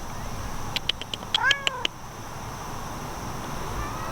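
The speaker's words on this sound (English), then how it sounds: "These are our farm cats." Farm cats meowing outdoors in a few short, close calls clustered together, one rising and wavering, over a steady background hiss with no talk.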